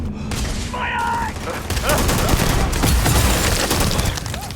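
Rapid bursts of gunfire with booming impacts in the sci-fi shooter Starfield, a continuous loud firefight with shouted voices over it.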